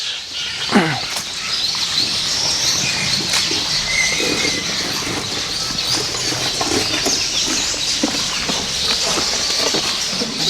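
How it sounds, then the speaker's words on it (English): Several birds call and squawk continuously against a busy outdoor background at a reptile park in Uganda, with chirps and harsher cries overlapping throughout. "we have the different types of birds"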